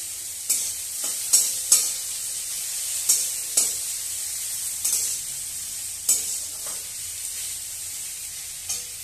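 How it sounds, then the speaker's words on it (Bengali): Chopped medium tomato sizzling in hot oil with ginger and green chilli paste, while a spatula scrapes the pan in repeated sharp strokes roughly every second over a soft continuous fry, close up and no talking. "দিয়ে দিচ্ছি একটা মিডিয়াম সাইজের টমেটো কুচানো"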